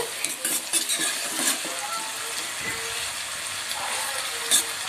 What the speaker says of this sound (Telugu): అదిగోండి ఇప్పుడైతే బాగా ఫ్రై అవుతున్నాయి ఉల్లిపాయలు